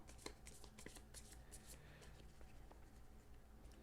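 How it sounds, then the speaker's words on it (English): Cards being shuffled for the board game Z War One, a steady run of soft riffling flicks and slides over a low room hum, fairly quiet and close. "Make sure these are good and shuffled."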